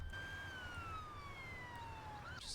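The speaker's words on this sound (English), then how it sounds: "Just hear the siren. I hope I didn't put it out in front of a emergency vehicle." An emergency vehicle siren in the bus driving game OMSI 2 wails in a slow falling sweep, moderately distant over a low rumbling engine drone.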